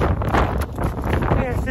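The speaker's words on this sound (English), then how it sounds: "Probably can't even hear me over this wind." Strong cold wind buffets the microphone outdoors on the water while fishing for blue catfish, a constant roaring rumble throughout, with a voice partly buried beneath it.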